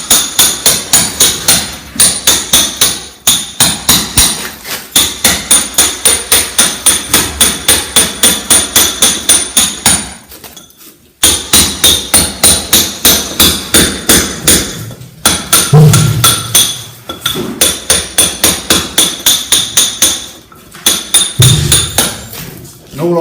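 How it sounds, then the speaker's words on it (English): Hammer repeatedly striking a cold chisel while chasing a stone wall for an electrical back box: loud, rapid, close metallic blows in long runs with brief pauses, a few duller thuds near the end. "I'm using the cold chisel now just to neaten up the edges"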